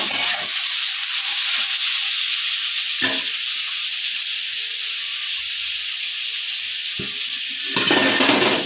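Chopped onion with potato fries in a pan, a loud continuous sizzle and hiss with a few brief knocks of stirring, and the sizzle swells near the end.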